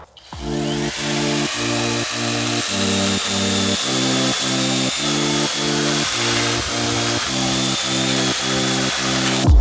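A SKIL 0512 CA cordless battery mini saw cuts dry wood with a steady, loud buzzing drone, pulsing in a quick, regular rhythm throughout, close up and with no voices.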